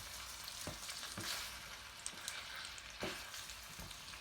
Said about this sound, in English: you're going to mix it up so all the sauce goes to all of the pasta